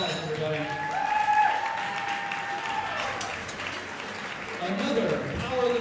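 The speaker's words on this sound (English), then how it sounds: "Give her a round of applause," Audience applause for a female powerlifter at a barbell meet, steady clapping from a large crowd mixed with chatter and voices throughout, swelling slightly near the end.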